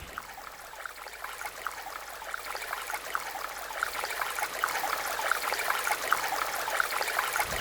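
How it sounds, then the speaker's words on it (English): A continuous babbling water stream trickles steadily, with fine bubbling flecks over a soft hiss that grows slightly fuller over several seconds, heard alone with no voices. "water, like a stream trickling in the background"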